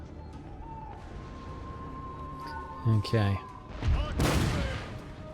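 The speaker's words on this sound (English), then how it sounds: "The cannon is starting to hopefully whittle their numbers down." Cannon fire in the Empire Total War video game, a few heavy booming shots and crashes rising out of a steady battlefield din, with a voice speaking briefly.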